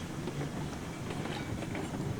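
Heavy freight train rolling along in the railroad game Railroads Online, a steady, fairly faint rumble with soft rhythmic clatter throughout and no talk.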